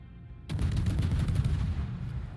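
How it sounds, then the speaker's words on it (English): Gunfire from a Tier 8 American light cruiser, the San Diego, in World of Warships, opening abruptly as a loud, sustained barrage of rapid overlapping shots that continues steadily to the end. "Shooting here ensures that you get spotted,"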